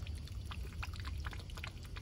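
A garden hose set to a small drip waters plants in an early spring garden, making a steady, continuous trickle that stays close and even throughout.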